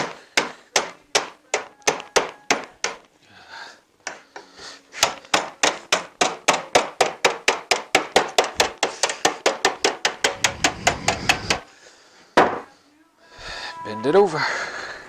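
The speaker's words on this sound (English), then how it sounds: "What we do is take your hammer" A hammer bends nails over on a wooden rabbit hutch board, making long runs of quick, sharp, evenly spaced knocks. The strikes are close and loud, with a few brief pauses and some handling noise near the end.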